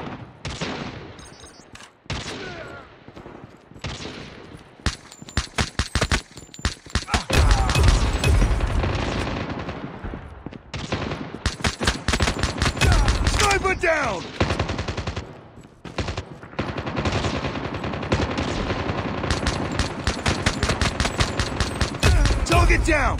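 Rapid gunfire in the mobile shooter game Call of Duty Mobile crackles in dense automatic bursts and single shots, loud and nearly continuous with brief pauses, mixed with game effects and occasional voice callouts.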